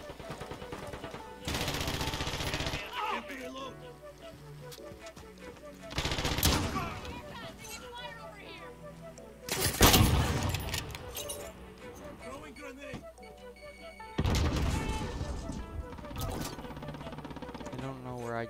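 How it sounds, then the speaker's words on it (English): Bursts of automatic gunfire in Call of Duty Modern Warfare, several loud volleys separated by quieter game ambience, with a person talking over the action. "I just got shot."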